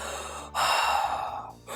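A reader's voice mimics a monster panting for a children's book: a few loud, close breathy gasps and huffs, one long raspy breath dominating the middle, with no words.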